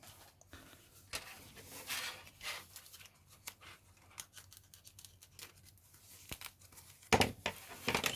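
Crinkly plastic bubble wrap being pulled and torn away from parts of a Hobbyboss 1/48 Corsair Mk.III model kit, close and fairly quiet, with irregular rustles, snips and tearing bursts, louder near the end.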